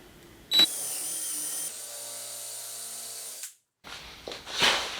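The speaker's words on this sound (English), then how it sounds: "drill right into that point" A power drill whines steadily at high speed for a few seconds while drilling for undermount drawer slides, then cuts off, followed by a brief clatter and a short burst of movement.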